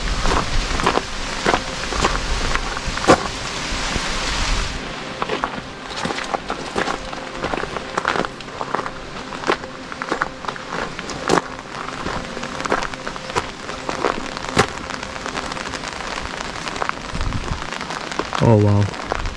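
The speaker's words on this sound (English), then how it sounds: "It's raining right now," Steady rain patters and drips across surfaces at a memorial site in Ebensee, Austria, with scattered sharper drops and occasional knocks, heard without any talking.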